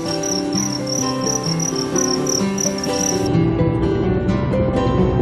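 Crickets chirp in a loud, close, steady rhythmic trill of rapid pulses over a dense insect drone, with no voices.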